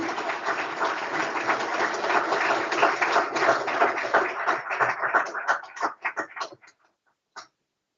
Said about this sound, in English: Let us celebrate this moment with a round of applause.